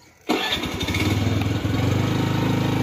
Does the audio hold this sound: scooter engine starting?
yes